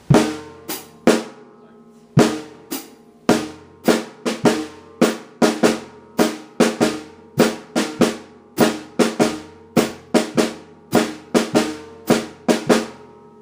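A drum kit plays a swing triplet figure where only the third triplet note sounds on beats 2 and 4, giving a steady, crisp pattern of paired hits that repeats evenly, close and clear with no talking.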